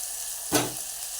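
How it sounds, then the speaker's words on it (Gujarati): Stuffed brinjals go into a pan of hot oil over low gas and set off a single short sizzling burst that fades quickly under a faint steady background hiss. "હવે આપણે જો એમાં નાખી દઈશું રીંગણા."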